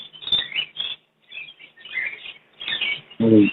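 Budgies and lovebirds at a Sunday bird market give short, high chirps and twittering calls in scattered bursts, close and moderately loud, with brief pauses between flurries and a closing burst of harsher chatter.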